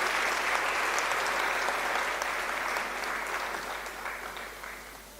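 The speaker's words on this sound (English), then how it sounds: "A warm round of applause for our sister Palesa." An audience at a conversation event with former president Thabo Mbeki gives Palesa sustained applause: full, even clapping that gradually fades toward the close.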